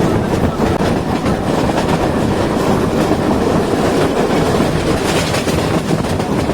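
A Bangladesh Railway train rumbles along the tracks near Hatubhanga station in a loud, continuous roar with a faint rhythmic clatter of wheels, heard from on board.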